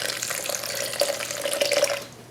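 Water streams steadily from a tap into a pot, measured out for cooking banku, a close, continuous splashing rush with no voices.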